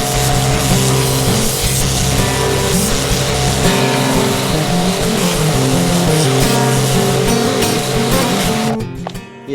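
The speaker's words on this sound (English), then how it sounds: "If I just pop that turbo nozzle back in again and give this a quick blasting off." A V-TUF V7 pressure washer with a turbo nozzle blasting a patio, a loud, continuous motor and spray roar holding steady for several seconds before cutting off abruptly at the end.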